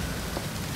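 Steady rain falls on surfaces outdoors during a wedding among rocks, a dense, even hiss with no voices.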